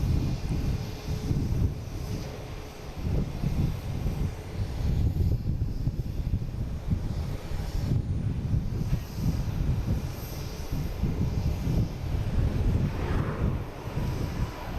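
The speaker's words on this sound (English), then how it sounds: "here's that Delta. Flight 5798 coming in from JFK and E175." A Delta Embraer E175 regional jet comes in on arrival, a loud, steady roaring rumble buffeted by gusty wind across the microphone, with no voices.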